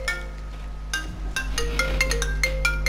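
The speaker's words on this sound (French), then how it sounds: "Oh, excusez-moi, ça c'est mon téléphone." iPhone ringtone playing a bright, chiming melodic pattern of repeated tones over a steady low hum from game audio.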